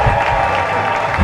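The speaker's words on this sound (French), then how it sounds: "applaudissez pour vous-même" A church congregation applauds together in a steady, loud burst of clapping that continues without a break.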